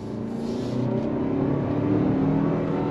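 A 2023 Toyota Highlander with the 2.4-litre turbo engine pulls out of a decreasing-radius turn on throttle, its steady engine drone rising under a constant rumble of road and wind noise, heard from inside the cabin without talk.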